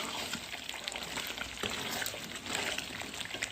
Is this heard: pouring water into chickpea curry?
yes